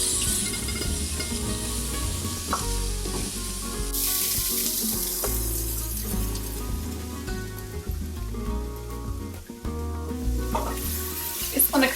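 Cumin and spices cooking down in a pan with tomatoes for a vegan tortilla soup, a loud close sizzle and bubbling with stirring scrapes, dense and continuous, no talking.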